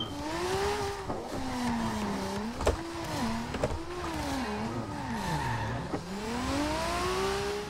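A car drifts in the racing game Forza Horizon 2, its engine revving and wavering steadily while tires squeal through continuous slides, loud and close with no speech.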